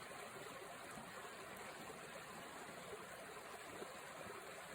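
An alpine creek flows in a steady, unbroken rush of water, soft and fairly distant, with no voices over it.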